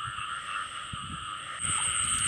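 Frogs croak in a newly flooded field, a steady, dense chorus of calls that grows slightly louder toward the end, with no one speaking.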